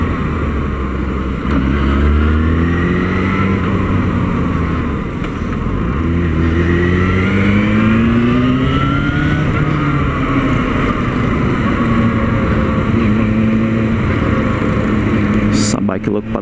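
Yamaha FZ6 motorcycle with its original stock exhaust, engine droning steadily and close with rising and falling revs throughout, heavy wind buffeting and a brief clatter near the end.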